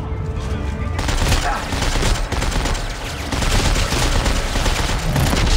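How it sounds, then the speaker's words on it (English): Enemy gunfire in the sci-fi shooter Dead Space 3: a loud, dense barrage of automatic shots that runs continuously without a break. "Shoot all the bullets you like, it's not stopping me!"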